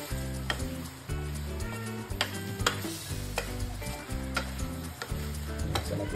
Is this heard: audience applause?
no